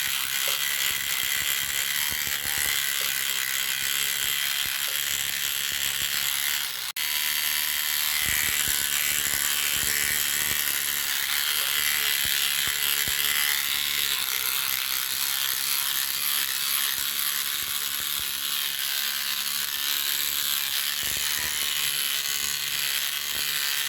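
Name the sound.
Action rotary cleaning brush running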